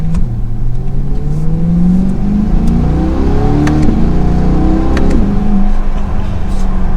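A 2022 Chevrolet Corvette C8 convertible engine revs up loud and close in sport mode with manual shifting, pitch climbing steadily through quick gear changes with a smooth rising whine.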